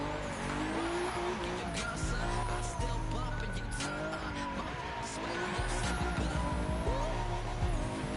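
Tuned Nissan RB26 inline-six revving hard toward redline at a live car cruise, a loud sustained engine roar with rising and falling pitch, tire squeal and crowd noise mixed in around it.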